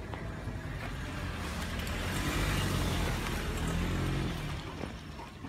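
A car drives along an uphill road past a grape farm in Japan, its engine and tyre noise swelling to a steady close rumble in the middle and then fading, with no talk.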